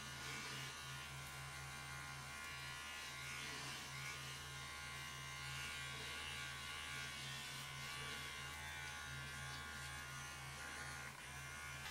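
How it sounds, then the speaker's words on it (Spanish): A Foreo Luna facial cleansing device vibrates continuously during a face massage, a steady, even electric buzz with a low hum that holds unbroken for the whole stretch, close and fairly quiet. "Y ahora se enciende, digamos, más con una vibración más bajita."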